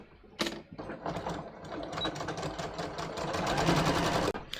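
A sewing machine stitches a waistband seam on trousers, its needle mechanism running in a fast, steady mechanical chatter that builds after a brief start, close and loud, stopping abruptly near the end.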